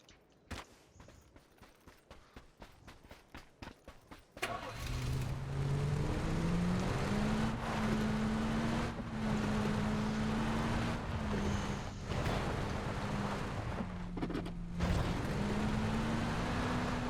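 Car engine in the PUBG battle-royale game droning steadily at a near, loud level after a few seconds of scattered clicks, its pitch rising and shifting as the vehicle drives on.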